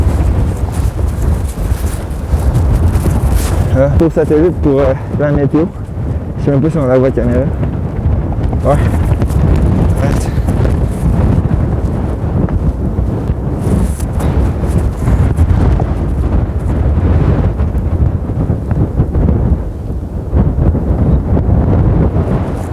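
Strong wind buffets the microphone in a constant rumbling roar while people talk through it.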